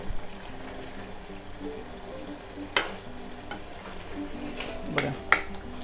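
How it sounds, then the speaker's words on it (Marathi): Stuffed ivy gourd (tondli) curry stirred in a pan, a soft steady sizzle with a few sharp spoon knocks and scrapes against the pan near the end, close and quiet. "पण बघा असं ढवळून घ्या म्हणजे वरची बाजू खाली असं ढवळून घेते"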